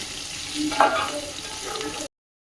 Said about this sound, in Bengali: এই যে ভাজা করছি আরামসে একদম ভালো করে ভাজা করছি